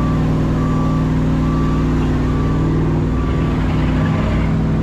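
A large truck engine rumbles steadily nearby with a low, droning hum, a faint beeping tone repeating over it, and no one talking.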